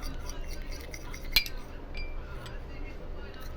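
A spoon stirring a neem and curd face pack mixture in a small bowl: soft, close scraping and mixing, with one sharp clink against the bowl's rim and a few lighter taps.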